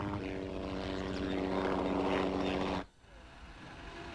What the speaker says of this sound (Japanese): 主要チームは1台に1機ヘリコプターをつけた。